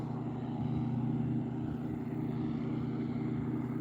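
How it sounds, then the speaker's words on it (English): A propeller airplane lands on the water near a saltwater pier in Beaufort, South Carolina, heard as a steady, moderately loud engine drone from a distance. "airplane landing on the water here"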